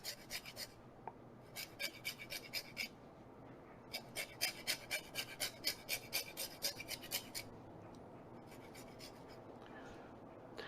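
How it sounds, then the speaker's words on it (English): Key limes are zested on a grater, giving short bursts of quiet, close rasping strokes in rhythmic runs, with pauses between the bursts and no talk. "I've got a whole bunch of key lime sitting here, and we're going to zest these"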